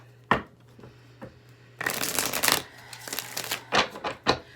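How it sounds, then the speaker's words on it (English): Tarot cards being shuffled by hand during a Taurus reading, with papery riffling bursts after a sharp tap and a few later snaps, fairly close and quiet with no one talking. "We've got 3 more shuffles, okay?"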